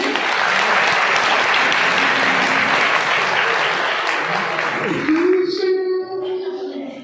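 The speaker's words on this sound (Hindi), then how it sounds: "एक बार जोरदार तालियां बजाएं।" A college audience at a shayari poetry event bursts into vigorous applause that holds for about five seconds, then fades as a voice begins speaking.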